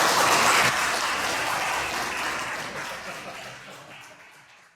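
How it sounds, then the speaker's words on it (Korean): An audience claps at a political talk show in Jinju, a broad wash of applause that starts strong and slowly fades over several seconds, with no voices on top. "여러분 박수로."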